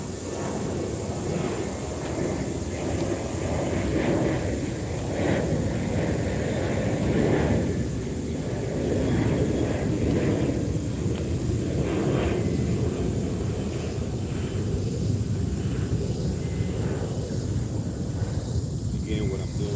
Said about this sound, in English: So frequently you hear that airplane.